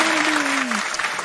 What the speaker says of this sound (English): Round of applause to me.